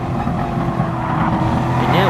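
A race car engine drones in the video game Gran Turismo Sport while slipstreaming behind another car on a straight, a loud, sustained roar with rising pitch under someone talking.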